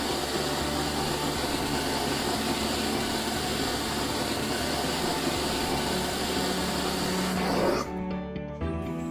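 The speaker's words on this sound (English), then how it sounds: "messy whisker debris are all whisked away by the vacuum stream" A Drawer Vac central vacuum system runs with a loud, steady whooshing roar that cuts off near the end, leaving a faint fading hum.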